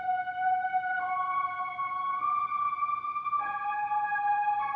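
A saw wave synth melody run through the Sound Doctor plugin, with unison, plays the same slow four-note line as softer, rounder sustained tones that blend smoothly from one note to the next, with no voices.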